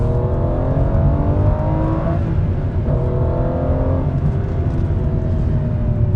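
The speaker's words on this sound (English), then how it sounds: "That engine just spins up so quickly." A 2011 Aston Martin Vantage V12 revs hard on the move, its engine note rising quickly through the gears with a brief dip at a shift, loud and close from inside the car.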